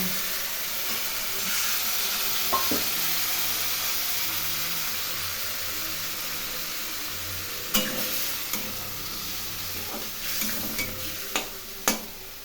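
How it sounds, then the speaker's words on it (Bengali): Spice masala paste frying with a little water for a rui fish curry: a continuous close sizzle and hiss in the pan, with a handful of sharp spoon scrapes and taps near the end. "এখন অল্প জল দিয়ে এই মশলা আমি কষিয়ে নেব।"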